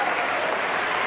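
A crowd at a York Hall wrestling event, after a British tag-team championship match, applauds in a dense, steady wash of clapping throughout, loud and close.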